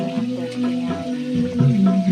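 Goldfish frying in a pan on a traditional wood-fired stove gives a steady sizzle that runs the whole time, with a tonal hum layered over it.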